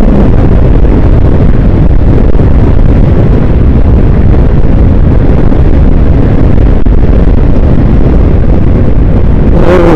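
Strong, steady wind roars across the microphone the whole time while a rider travels on a Honda ADV150 scooter on an open road, with a constant low, dense rush.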